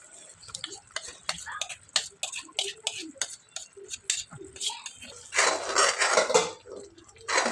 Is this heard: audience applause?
no